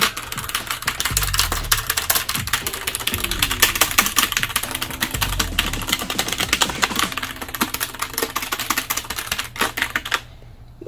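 Typing on a ROCCAT Vulcan Pro gaming keyboard, a dense, steady rattle of rapid keystrokes running for about ten seconds, close and fairly loud, with a few low thumps mixed in before it stops abruptly.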